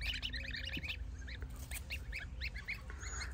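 Geese honk repeatedly in a rapid, overlapping chorus close by outdoors, over a low steady background rumble.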